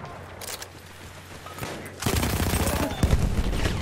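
An Automatico Factory machine gun in Battlefield 1 fires a rapid automatic burst, loud and close, that breaks in after a couple of seconds of quieter game ambience.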